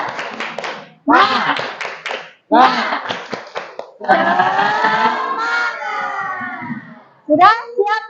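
Classroom students chant and clap the tepuk semangat routine, children's voices rising in unison with sharp rhythmic claps in repeated bursts, ending in a drawn-out shout before a final short clap pattern.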